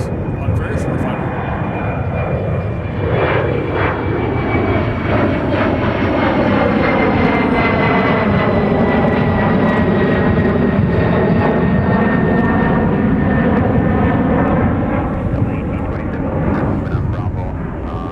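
A fixed-wing airliner on very short final to MSP airport roars loud and close, its jet engine noise swelling and holding with a steady whine, then easing slightly as it passes, with voices underneath.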